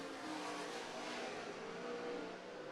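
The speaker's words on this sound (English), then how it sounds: "Off of turn number 2, down the back straightaway he goes, just 2 car lengths behind the number 2 machine of Alex Pettis." Wing sprint cars racing around the dirt track at USA Raceway in an ASCS Southwest Region main event, a steady loud roar of engines at speed that stays constant without breaks.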